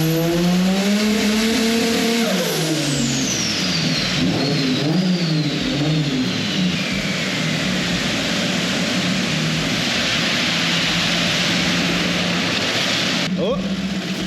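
A turbocharged drift car with a fresh exhaust, a newly dialed cam gear and its boost turned up revs hard, climbing and falling in pitch through repeated loud pulls, with a high whine sweeping down over a steady exhaust roar.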